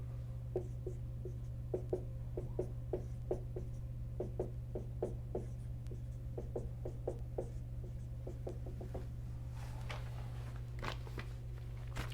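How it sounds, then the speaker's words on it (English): A pen or chalk writes out math terms in a quiet room, a series of close, light scratching strokes in short bursts over a low steady hum, with no talk. "I'm just going to write out the first few terms here."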